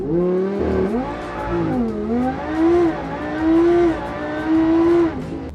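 A Lamborghini launches hard from a standstill on a 0-60 mph run, its engine howling up through the gears with rising pitch and brief dips at each shift, loud and close with no talk.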